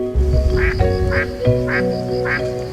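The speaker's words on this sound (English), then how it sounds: "The spotted-billed duck can be seen all year round here" Spot-billed duck at Longluan Lake quacking in four loud, evenly spaced calls close by, over a steady background hum.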